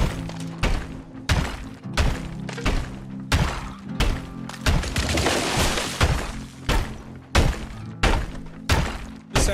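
A house is torn down in Deconstruction Simulator with a rapid run of heavy thunks and crashing impacts, followed by a dense stretch of shattering and breaking debris. The impacts then resume in a regular pounding rhythm.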